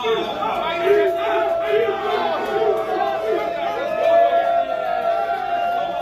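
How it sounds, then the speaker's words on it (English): A crowd of fans at a Panthers football game cheers and shouts, a dense roar of many voices with scattered yells, loud and sustained throughout. "Oh, the guys are cheering."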